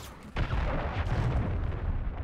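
A cruise missile explosion in Call of Duty hits suddenly as a loud, close boom, followed by a sustained rumbling roar that slowly fades.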